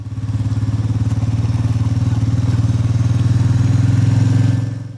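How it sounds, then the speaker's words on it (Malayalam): Motorcycle engine running steadily up close, a low throbbing drone that holds level while the accelerator is eased off, then dips slightly at the very end. "പകുതിയോടടുക്കുമ്പോൾ പതിയെ ആക്സിലറേറ്റർ കുറച്ചുകൊണ്ട് വരിക"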